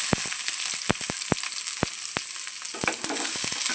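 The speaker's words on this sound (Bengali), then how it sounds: "পেঁয়াজটাকে একটু ভাজা ভাজা করে নেব" Chopped onion fries in a little oil in a pan, a bright continuous sizzle punctuated by sharp crackles and pops scattered irregularly throughout.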